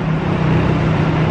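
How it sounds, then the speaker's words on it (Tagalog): Noisy car engine droning as a steady, loud, low rumble with a faint hum, continuous throughout with no talk over it. "And then maingay yung sasakyan."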